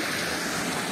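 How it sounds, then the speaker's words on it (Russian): Sea waves wash steadily onto the shore of a bay, a continuous broad hiss of surf heard up close for a moment with no voices. "волны на море."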